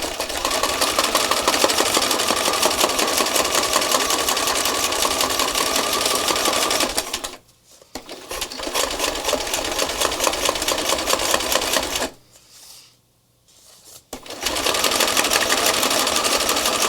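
A sewing machine stitches through art journal postcards in loud, close, rapid mechanical whirring runs, with two short pauses where the needle stops before it starts again.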